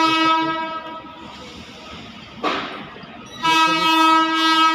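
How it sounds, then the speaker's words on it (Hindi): A train pulls into a railway station platform in Beas, sounding a loud, sustained horn that breaks off briefly and then resumes, over rumbling wheels and carriage noise close by. "ट्रेन आ गई"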